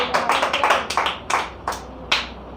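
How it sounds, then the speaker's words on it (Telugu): Rhythmic hand claps from a church congregation during Sunday worship, sharp close slaps landing in an even beat, seven or eight in quick succession, with almost no voices. "చప్పట్లు కొడదామా?"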